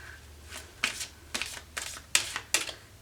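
Playing cards riffle and snap in several short bursts, quiet and close, with small pauses between each shuffle.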